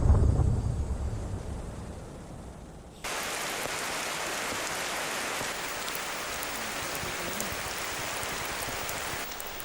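Steady rain hisses loudly in Guyana, a broad wash of falling water that jumps up in intensity after a few seconds and stays constant.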